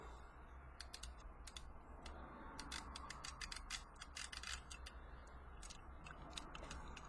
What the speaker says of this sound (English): it's got a little winch that you can pull it up